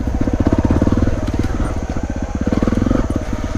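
A dirt bike on a trail engine-brakes with the clutch out, its close, loud engine burbling in rapid rhythmic pulses that hold steady throughout.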